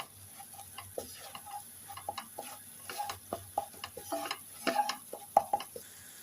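Chicken masala for butter chicken being mixed in a pan after coriander and cumin powder go in, giving a run of soft, irregular scraping and clicking stir strokes over a faint low sizzle, close and fairly quiet.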